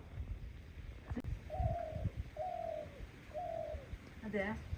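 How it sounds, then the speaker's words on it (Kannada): Pigeon or dove calling near a house: three drawn-out hoarse coos spaced about a second apart, then a shorter wavering call, over a low murmur of background noise. "ಅದೇ ಕೂಗುದು ಕಾಣ ಇದು ಯಾವ ಹಕ್ಕಿ ಗೊತ್ತುಂಟಾ"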